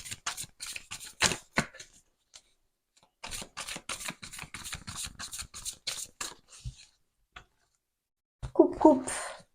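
Modern Love Tarot cards are shuffled by hand in a run of quick crisp riffling bursts, pausing briefly and then resuming, with a voice joining near the end.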